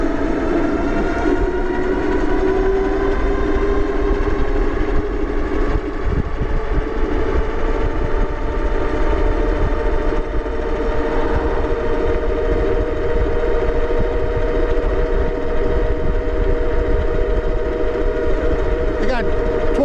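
A HOVSCO HovGtrs 1500W moped-style ebike accelerating hard on throttle outdoors, steady loud rushing wind and motor whine with a rising tonal hum that climbs in pitch across the run.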